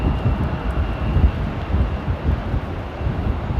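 A KLM airliner at Amsterdam Airport gives a steady, loud low rumble of jet engine noise, mixed with gusting wind buffeting the microphone outdoors.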